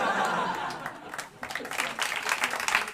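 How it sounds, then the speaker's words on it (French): An audience at a magic comedy show applauds a volunteer; clapping fades briefly, then swells again into a livelier round mixed with a few chuckles. "Allez, on peut applaudir Élise"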